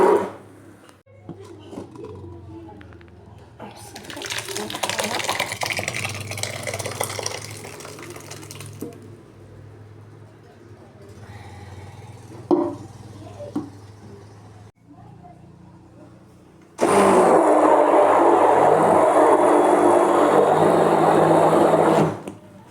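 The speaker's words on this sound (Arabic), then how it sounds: "دابا انا غادي نطحنها ونرجع" A kitchen blender grinds cooked, cooled tomatoes into pizza sauce, its motor roaring loud and steady for several seconds near the end after quieter kitchen handling and water sounds, with no speech over it.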